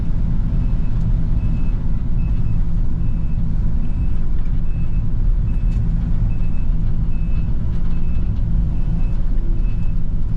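An excavator driving down toward a lower beaver pond gives a loud, steady diesel rumble close by, with a regular reversing alarm beeping over it the whole time.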